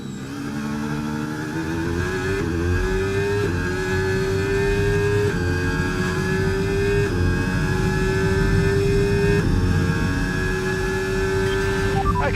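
Formula 1 car engine racing in the F1 25 video game at the Brazilian GP, a continuous loud high-revving whine that climbs through the gears with brief shift dips, with no talk.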